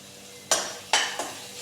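Chicken with masala and ginger garlic paste stirred in a pan, three quick scraping strokes of a spoon against the metal, each followed by a short fading sizzle, close and clear with no talking.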